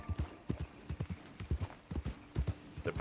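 Patrol horse hooves clip-clop in steady paired beats in the RedM video game, close and clear with no talking.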